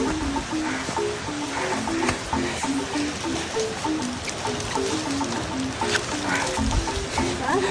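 Heavy rain in a storm on a mountain hike at Mt. Ayngat, a dense steady wash of downpour and water noise with faint scattered voices underneath.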